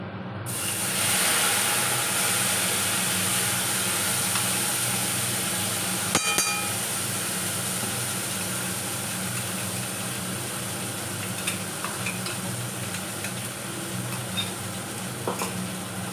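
Mustard, green chili and tomato paste sizzle steadily in a hot pan, a continuous close frying hiss with occasional stirring scrapes and a brief utensil clink.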